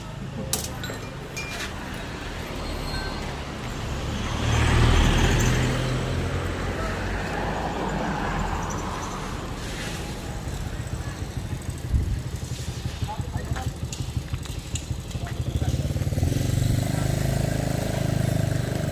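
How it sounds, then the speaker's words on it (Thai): An Isuzu pickup truck with cut leaf springs and a lowered rear rolls to a new spot. Its engine idles and revs with a steady, close rumble that swells and eases, while people talk nearby. "มาเลื่อนรถหน่อยเร็ว"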